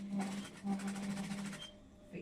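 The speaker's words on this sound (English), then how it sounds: "And now I sew starting from this side." A sewing machine runs in steady bursts of rapid stitching as quilt pieces are chain-fed through, with a short pause partway and the motor stopping near the end.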